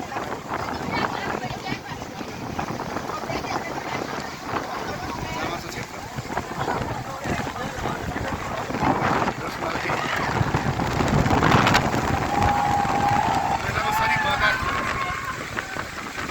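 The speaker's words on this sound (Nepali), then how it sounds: "आज मेलाको दिनमा ठुलो हावाहुरीको साथ पानी परिरहेको छ।" Heavy rain driven by a strong windstorm with hail at the Jamacho fair, a steady broad roar of wind and rainfall swelling louder toward the middle, with a person talking throughout.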